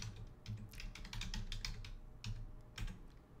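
A URL is typed on a computer keyboard at close range, with quick, irregular clusters of key clicks and brief pauses between bursts.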